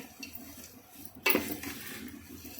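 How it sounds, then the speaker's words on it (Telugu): Flattened rice (poha) is stirred and frying in a pan, a metal spoon scraping and clattering against the pan, with a sharp loud scrape midway over a faint sizzle. "ఇప్పుడు కలుపుకోవాలి. ఇట్లా అన్నీ ఇందులోనే మళ్ళీ అటుకులు కూడా ఫ్రై అవుతాయి."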